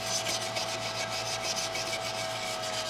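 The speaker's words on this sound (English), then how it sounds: "Just going over it with a wire brush here" A wire brush scrubs across welded cast aluminum in quick, rhythmic rasping strokes, moderately quiet and close, over a steady background hum.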